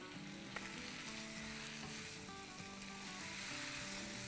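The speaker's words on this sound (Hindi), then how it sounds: "बस इसको हम अदरक लहसुन को प्याज़ों को 3 मिनट 4 मिनट तक भूनेंगे और उसके बाद आगे प्रोसेस करेंगे।" Ginger, garlic and chopped onions fry in a pan for an Indian egg and potato biryani, giving a steady, close sizzle with occasional stirring scrapes and no speech.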